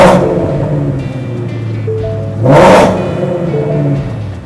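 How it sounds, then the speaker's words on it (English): A muscle car engine fitted with Kooks headers rumbles steadily, then surges in a loud, brief rev before settling back to a throaty idle. "If it was able to sound like a regular muscle car, I would definitely enjoy that."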